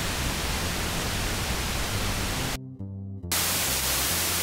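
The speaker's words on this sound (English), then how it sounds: "This is pink noise," Steady, dense hiss of pink noise from a modular synthesizer noise generator, with a fuller low end, continuous and loud, briefly cutting out near the end before resuming.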